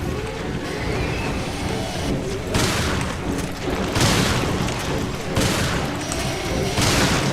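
Shotgun fire in Resident Evil Revelations 2 comes as loud, booming blasts repeating roughly every second or so amid constant game noise, with a voice talking underneath.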